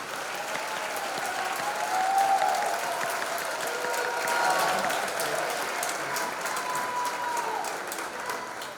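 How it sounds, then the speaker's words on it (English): Audience at a graduation ceremony gives a sustained round of applause, a broad, steady roar of clapping hands from a large crowd, swelling slightly and lasting throughout. "How about a round of applause from you to your families?"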